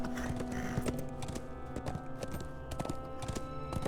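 Horse hooves galloping in the online game Lord of the Rings Online, a steady rapid clip-clop rhythm over a continuous musical score, close and fairly loud throughout.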